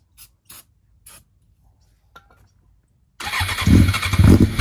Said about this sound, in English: I sprayed some starter fluid in the airbox. Well, bam, the bike started up.